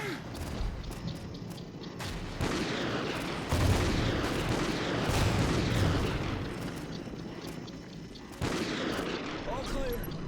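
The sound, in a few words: RPG rockets and gunfire in Call of Duty Ghosts video game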